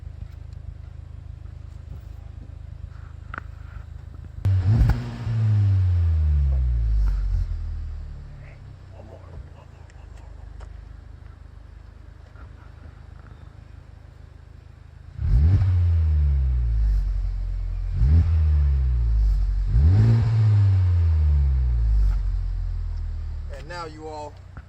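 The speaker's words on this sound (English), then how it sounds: "I'm gonna give it a little rev right quick so y'all can hear that VTEC kick in" A Honda Civic Type R engine revs hard twice, then three quick times, each climbing to a roaring VTEC peak before dropping back to a low idle rumble.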